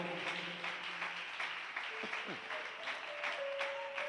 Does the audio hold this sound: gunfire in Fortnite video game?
no